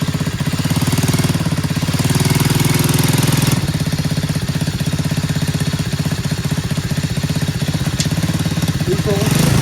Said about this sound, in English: When I put it in gear, it wants to stall. It starts well when it's not in gear.